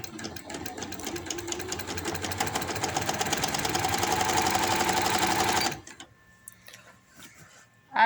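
A sewing machine runs steadily while stitching a palazzo pant seam, a fast, even mechanical rattle that lasts several seconds, then stops abruptly and leaves faint handling noises.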